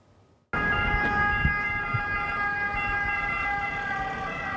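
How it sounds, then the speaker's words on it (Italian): An ambulance siren sweeps past on a city street in a residential neighbourhood, loud and steady after a sudden start, with traffic rumble beneath and no voices. "È appena passata un'ambulanza"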